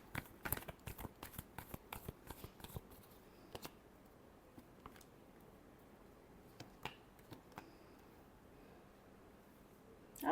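Tarot cards are shuffled in quick, crisp riffs and snaps, clustered early and then scattered, close and fairly quiet with no talk.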